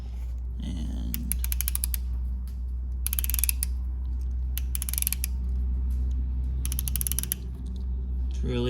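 A torque wrench ratchets in short clicking runs while a transmission band is adjusted on a 12-valve Cummins truck with a 518 automatic, close and sharp over a steady low engine or shop hum.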